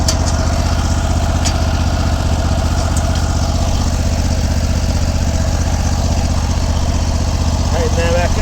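A lawn mower fitted with brushes for raking leaves runs loud and steady close by, its engine drone unbroken throughout, with a brief rising squeal near the end.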